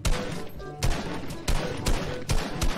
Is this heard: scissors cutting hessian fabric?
no